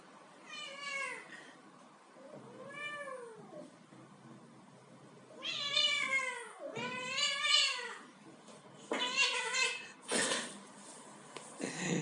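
Kittens meow repeatedly, high thin cries coming in bursts and sometimes overlapping, close and fairly loud against a quiet indoor background.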